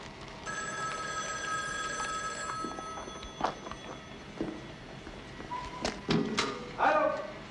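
An old telephone bell rings in a quiet room in a 1971 Quebec children's film, steady ringing tones followed by a few thumps and faint movement noises at low volume.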